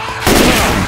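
Gunfire in Left 4 Dead 2 breaks out as a sudden loud blast partway through, followed by a dense, noisy rumble of shots and game action that fills the rest of the brief moment.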